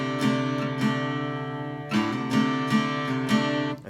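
Acoustic guitar strums a chord from a song with the middle finger left resting on the fifth string, producing a muddied, slightly off voicing in several evenly spaced strokes that ring out loud and alone.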